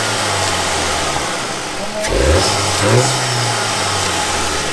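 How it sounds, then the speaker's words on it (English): A 2019 Volkswagen GLI engine fitted with a turbo inlet pipe idles and then gets a quick rev, a short rising roar that settles back to a steady hum, close by and loud, with a brief voice over it. "Camera, go ahead and give it a little rev."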